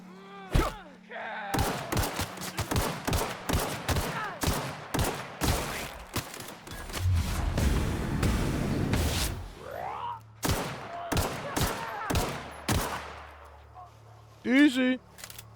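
Gunfire in The Outer Worlds, a rapid run of sharp shots and bursts with a sustained rumbling stretch in the middle, loud and close, with a few short gaps between volleys.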